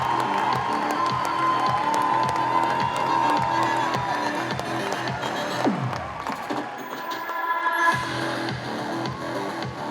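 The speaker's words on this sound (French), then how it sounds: "Ici, on applaudit Francis Ngannou." Crowd at the Ballon d'Or 2023 ceremony applauds and cheers for Francis Ngannou, a dense continuous wash of clapping and cheering that briefly dips mid-way before swelling again, with no talk over it.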